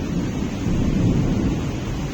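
Thunder from a Kalbaisakhi storm over Bhubaneswar, a loud sustained low rumble with a steady hiss of rain, with no voices.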